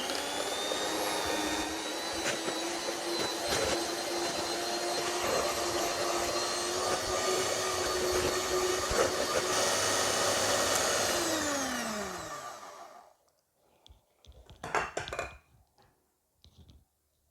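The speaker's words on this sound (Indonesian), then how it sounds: "So saya mixer ya." An electric hand mixer whirs steadily through chocolate chip cookie dough for about twelve seconds, then winds down and stops, followed by a few faint clinks and scrapes.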